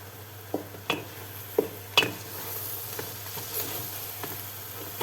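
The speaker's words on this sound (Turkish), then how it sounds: "Salçayla e, pul biberle de biraz daha yine kavurdum." Tomato paste and chili flakes are sautéed in a pot for a soup. A soft, steady sizzle runs under scattered stirring clicks and utensil taps.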